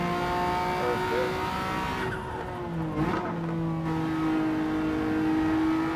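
Race car engine in Gran Turismo 7 holding a loud, steady high drone with a brief pitch dip and tire scrub midway, then climbing again, heard alone.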